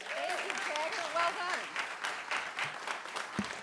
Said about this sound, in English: Let's give Taggart a big round of applause.